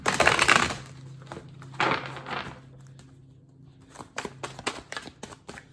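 Tarot cards being shuffled by hand, giving soft papery riffles and bursts in a few clusters with quieter gaps and light tapping between, close and fairly faint.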